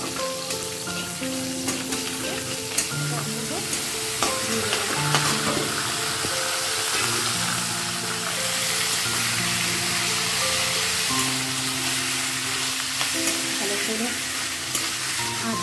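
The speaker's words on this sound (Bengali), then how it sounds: "গোটা মশলাটা মিক্স করে দিচ্ছি" Whole spices and chili sizzle and crackle steadily in a hot pan while being stirred, in a dish with taro leaves. The frying noise stays loud and continuous over a faint tonal background, with no talking.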